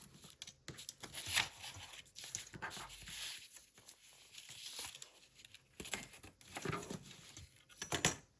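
Paper sheets for junk journal signatures are trimmed, giving soft, irregular cutting, sliding and crinkling noises with small taps and rustles, quiet and close, spread unevenly across the stretch.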